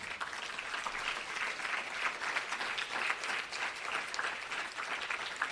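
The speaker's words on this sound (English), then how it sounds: "a very, very big round of applause to the teacher" A Bharatanatyam arangetram audience gives a dense, steady round of applause from many hands, even and sustained throughout with no voices standing out.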